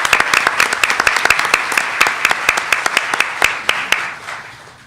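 Dense applause from an audience at a campus women's celebration evening, with sharp individual claps over a continuous roar that fades toward the end.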